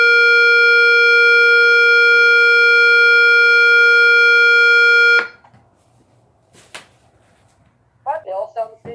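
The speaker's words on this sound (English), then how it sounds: "This is a horn. This is horn." A Federal Signal SelecTone 50D siren speaker sounds its horn tone, a loud, steady harmonic blare held for about five seconds before cutting off, followed by faint clicks and a brief burst of nearby speech.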